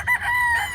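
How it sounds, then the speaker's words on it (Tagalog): A Sweater gamefowl rooster with red lines crows once, loud and close by, in a single drawn-out call. "Napaka-pogi niyang manok guys."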